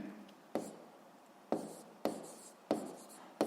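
A pen writes by hand on paper during a sixth-grade maths exercise, giving short scratching strokes in quick bursts separated by brief pauses, close and quiet.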